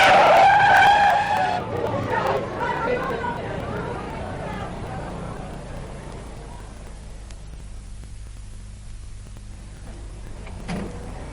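A loud car skid with screeching tires opens a radio drama scene, fading into a long quieter tail of rumble and scattered thumps as the vehicle comes to a stop.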